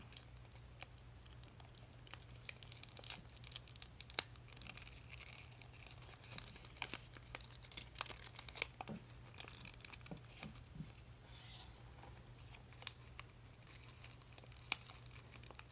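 Paper crinkles and rustles softly and close while being folded into an origami Tetris I-piece, with scattered small taps and crisp creases over a quiet background.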